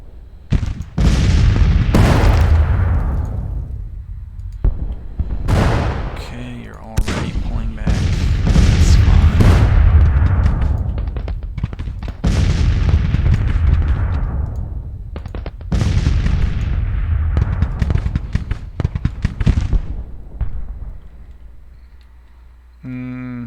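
Artillery firing in a Civil War video game at the Battle of Shiloh: heavy cannon booms and bursts of musketry come in several loud waves, each rolling off into a rumbling decay, while someone talks over them.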